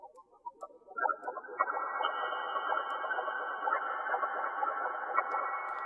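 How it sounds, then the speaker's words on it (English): A Serum 2 synth patch drenched in huge reverb swells from a few scattered blips into a sustained, shimmering soundscape of layered tones, steady and moderately loud, with no talking. "Put a huge reverb on that."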